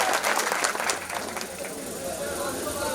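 Audience applause at a company annual picnic event for MAINETTI Group Bangladesh: dense, steady clapping from a crowd, loudest in the first second, then easing into a softer, continuous patter mixed with voices.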